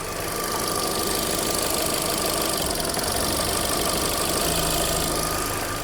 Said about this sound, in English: introduce a misfire, so a deliberate fault on cylinder 3